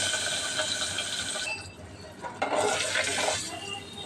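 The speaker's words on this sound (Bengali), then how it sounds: "আর এদিকে আমার মামনি জানি কী করতেছে, ঘট ঘট ঘট ঘট করে আওয়াজ করতেছে" Clunking and clinking of metal water pots being handled by a young girl in a home kitchen, a steady clattering run that thins out midway and then picks up again in a louder burst, with no talking.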